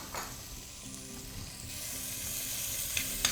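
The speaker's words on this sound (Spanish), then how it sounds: "Sofreímos bien." Chopped red pepper and vegetables sautéing in a pan as a fairly quiet, steady sizzle that swells slightly toward the end, with a couple of faint utensil clicks and no voices.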